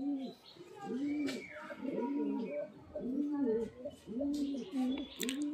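Pigeons coo in steady, repeated rolling calls close by, a continuous low warbling pattern with faint chirps and background noise.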